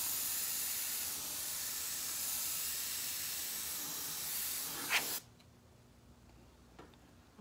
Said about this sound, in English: I love the airbrush.